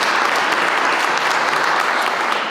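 An audience at a casino-themed business speech event gives a round of applause, a steady, loud burst of many hands clapping throughout.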